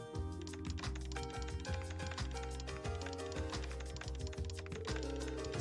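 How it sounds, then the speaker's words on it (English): Rapid keyboard typing in The Legend of Heroes: Trails to Azure, a dense run of light clicks under steady, loud background game music. "Speed typing."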